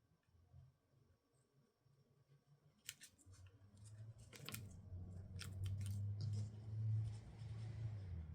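Scissors snipping paper leaves for a handmade card, a few sharp close cuts clustered mid-clip over low rumbling background noise, with no talking.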